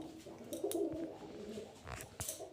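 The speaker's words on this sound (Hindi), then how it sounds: "हमारे घर पे इतने सारे कबूतर हैं ना" Pigeons coo softly indoors at a home, with a low burbling call near the middle and a few faint thumps and rustles around it.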